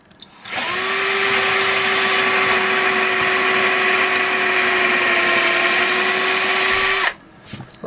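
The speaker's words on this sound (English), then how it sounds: "now we're going to drill with a small drill bit about 3mm straight through" A small power drill with a 3 mm bit whines steadily at high speed for several seconds, close and loud, then stops abruptly.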